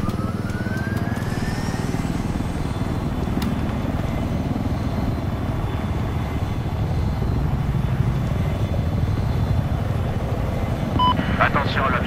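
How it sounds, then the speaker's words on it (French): A small helicopter's rotor in the video game Battlefield 4 drones steadily throughout, a continuous low rumble with some game-like effects layered over it, and voices talking now and then. "je vais tester en live la Super ET en petit hélicoptère"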